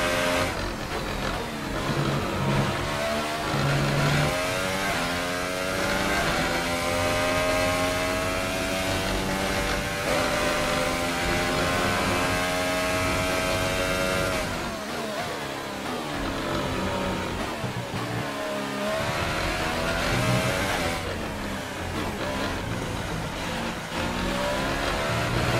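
Formula 1 race car engine in F1 2018 screaming at high revs, loud and continuous, with rising and falling pitch through gear changes and a brief dip mid-way before climbing again.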